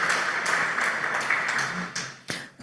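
Audience applause at a cyber expertise capacity-building forum for the moderator and panelists, a steady patter of many hands clapping at moderate distance, fading slightly toward the end.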